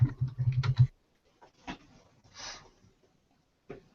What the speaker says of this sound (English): Oh, it's because I'm typing.